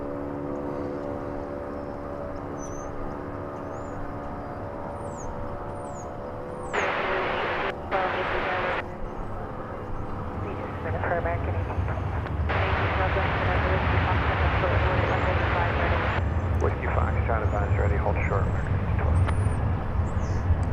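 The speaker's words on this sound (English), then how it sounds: "That was a 777, and this will be a 777." A Qatar Airways Boeing 777 passes at DFW Airport, its broad engine roar building and swelling into a loud sustained rumble, with bursts of other noise and a voice talking over it.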